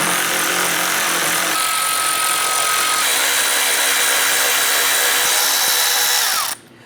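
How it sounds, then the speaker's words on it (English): Loud, steady whirring of a power tool driving a 10mm socket to back out the grille screws along the top of a Ram 1500's grille, running continuously for several seconds before cutting off abruptly. "We're going to remove our 4 10mm screws across the top of our grill"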